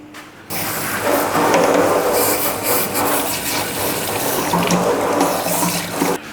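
A loud, steady jet of water blasts debris out through the holes of a brewing vessel in a brewery, a continuous close rushing spray after a short quiet start.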